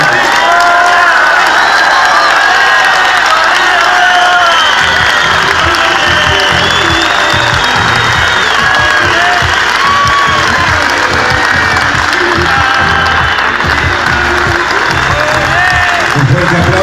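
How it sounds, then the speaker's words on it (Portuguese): A large crowd of workers applauds and cheers for Brazil's president Dilma Rousseff, with dense clapping, whoops and shouts running loud and continuous throughout, voices mixed into the roar. "Un fuerte aplauso para la presidenta de Brasil, Dilma Rousseff."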